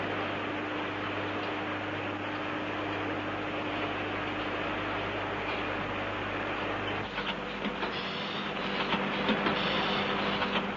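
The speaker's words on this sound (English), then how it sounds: "a machine has been developed which not only automatically cuts and shapes the heaters" Factory machine automatically cutting and shaping heater wires for vacuum tubes, giving a steady mechanical whir and hum throughout, with a change at the midpoint to faint rhythmic clicking and rattling.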